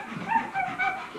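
Dogs give short yips and barks on command indoors, three quick bursts in close succession, near and moderately loud, with no talking over them.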